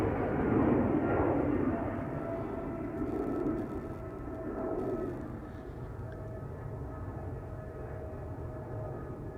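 KLM Boeing 777-200 airliner at Amsterdam Schiphol Airport, a steady broad jet engine roar that swells and eases slightly before settling into a sustained rumble, heard from a moderate distance.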